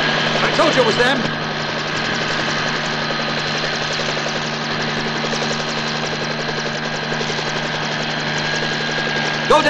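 A police helicopter engine drones steadily and loudly throughout, a continuous rotor and turbine roar with a faint rhythmic chop, joined at the start by brief voices or shouts.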